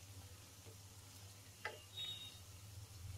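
Dahi vada fries in a pan with a soft, steady sizzle, with one brief clink midway, close and fairly quiet.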